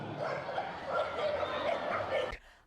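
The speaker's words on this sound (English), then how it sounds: "more than 100 sausage dogs from Germany, Austria, and Switzerland raced against the clock in Munich on Sunday at the 3rd International Dachshund Competition" Dachshunds at an international dachshund race in Munich yip and bark in quick, overlapping bursts amid a crowd murmur, ending abruptly.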